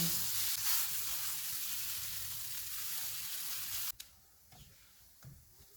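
Boiled, mashed potato with fresh coriander sautéing in a pan for an aloo kachori filling: a steady, close sizzle for about four seconds, then a sudden drop to quiet with a few soft scrapes.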